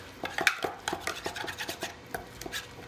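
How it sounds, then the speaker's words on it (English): Green chilies being stirred into lactose-free ranch dressing in a bowl, a quick series of soft scraping and clicking utensil strokes, close and fairly quiet, with no voices. "stir that in so it's mixed in with the green chilies"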